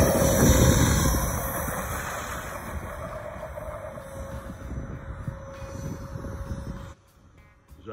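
A scratch-built RC airplane's electric motor and propeller drone loudly and steadily up close as it heads into the wind for takeoff. A high whine holds over broad rushing noise, then fades and drops near the end.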